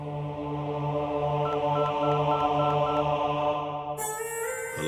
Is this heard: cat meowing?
no